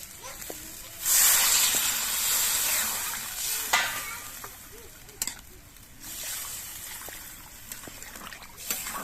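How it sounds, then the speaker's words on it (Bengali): Broth pours into spiced potatoes frying in a pan, setting off a loud hissing sizzle that surges, then settles into bubbling with a few spoon taps and scrapes. "এবার এর মধ্যে আমি ঝোল দিয়ে দিচ্ছি"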